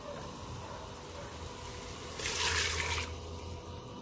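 Water is poured into a pressure-cooker pot of frying mutton for a Punjabi aloo gosht: a short, splashy gush of about a second that rises over a steady kitchen hum and then cuts off.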